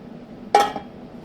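A metal lid set onto a cooking pot of simmering salmon pilaf, a single close clink with a short ringing tail over a quiet stovetop background.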